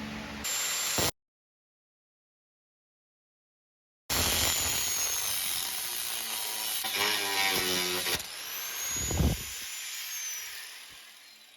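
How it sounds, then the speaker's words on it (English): Angle grinder working on a rear bumper part for a third-generation Toyota 4Runner, a steady high whine with rough, shifting grinding noise, broken by a roughly three-second silent gap partway through. "So I'm gonna take the grinder to this one, and the other two, and we'll go from there."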